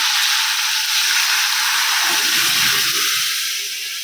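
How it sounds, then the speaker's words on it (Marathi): Tempering (phodni) for dal sizzling in hot oil, a loud steady hiss with a brief deeper bubbling burst midway, no talking. "इकडे मी वरणाला फोडणी देऊन घेते"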